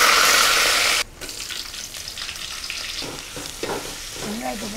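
Garlic and onion sauté in a pan for mullet fish curry, opening with a loud hiss that drops sharply, then a steadier sizzle with stirring scrapes and a faint voice underneath.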